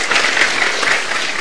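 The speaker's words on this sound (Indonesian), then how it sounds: "Sambil kasih tepuk tangan buat Tia lagi ya." Studio audience clapping on a television health talk show, a brief, loud, even burst of applause.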